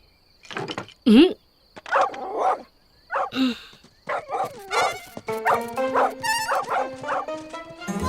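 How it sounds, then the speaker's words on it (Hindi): A cartoon dog in an animated Lassie story barks in a series of excited yips, bow-wows and whimpers. The sounds are close and loud, come in irregular bursts, and have a brief tonal cue near the end. "पागल डॉगी।"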